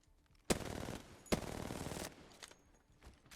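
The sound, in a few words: gunfire in video game Apex Legends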